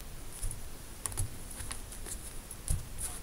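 Playing cards are shuffled and cut by hand for a card reading, making soft, irregular slaps and ruffling clicks at close range in a quiet room.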